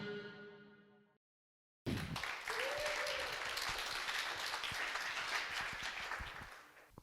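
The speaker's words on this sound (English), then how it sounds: "applause for me" An audience at an evening startup talk applauds the CEO speaker after a short spoken lead-in and a moment of silence, a full, even wash of clapping that gradually fades out.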